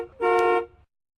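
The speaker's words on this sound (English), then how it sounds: "Taxi." A taxi horn gives one short, bright honk of about half a second, loud and clear, preceded by a faint engine rumble.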